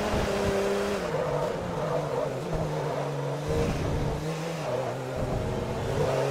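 Audi TDI diesel race car in the racing game Forza Motorsport 3, a loud continuous engine drone with a steady pitch that dips and recovers through gear changes, heard alone.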